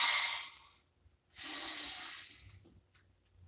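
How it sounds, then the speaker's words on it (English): Two long, slow, deep breaths are drawn and released close to the microphone, each a breathy hiss separated by a short silence, followed by a faint click. "Take a nice deep breath."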